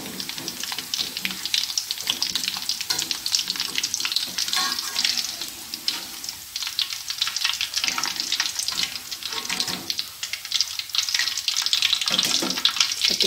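Crispy tofu fries in oil with a dense, steady, rushing hiss like running water. It is close and constant throughout, with no voices.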